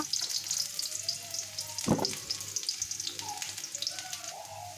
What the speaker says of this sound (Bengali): কড়াই দিয়ে তেল গরম করব পেঁয়াজ কুচি দিয়ে দিব